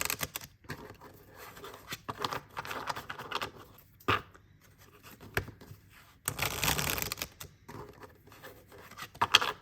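Tarot cards shuffled by hand, soft papery riffling and sliding in quiet bursts with brief pauses between, close and fairly faint.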